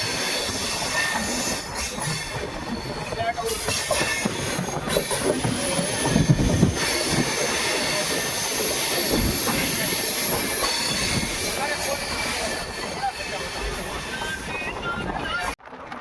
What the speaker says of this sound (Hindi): ट्रेन एंटर हो चुकी है जोधपुर सिटी के अंदर